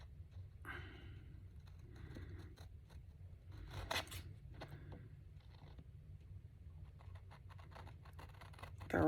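Scissors snip through paper in a quiet room, with irregular crisp cuts and rustling scrapes spread throughout, fairly close but soft, with no voices.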